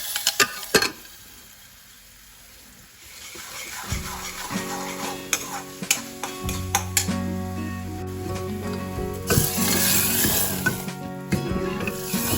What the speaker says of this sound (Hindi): और इधर ये धीरे धीरे मसाला भुन रहा है